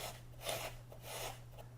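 Quiet rhythmic rasping of sanding a neoprene wrist gasket for a kayak, several soft back-and-forth strokes close by over a low steady hum.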